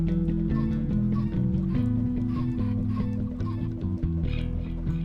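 Minecraft chickens clucking over a steady drone of background game music, several bird calls overlapping throughout.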